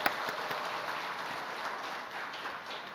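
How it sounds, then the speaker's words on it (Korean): A church congregation in Incheon gives a round of applause, a moderate spread of many hands clapping at a distance that holds steady for a few seconds before easing. "힘찬 도약에 나아갈 우리 인천일교를 위해 다시 한번 우리가 힘찬 축복의 박수 주십시다"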